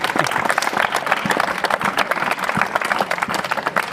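Students clapping together in a room with a comedian and teacher, a dense, steady burst of applause running the whole time at fairly close range.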